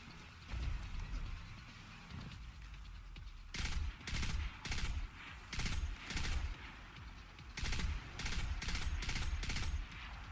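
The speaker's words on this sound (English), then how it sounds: "One burst fire kills one of these guys basically instantly." Burst-fire rifle in Destiny 2 fires repeated tight clusters of rapid shots at an even rhythm, fairly loud over steady game ambience, with no talking.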